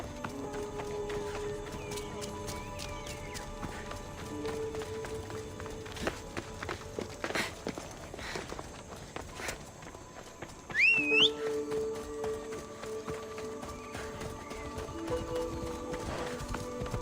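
Horse hooves clip-clop over ground in Assassin's Creed Odyssey, a steady faint trotting rhythm with sparse background game sounds and a brief whinny-like whistle partway through.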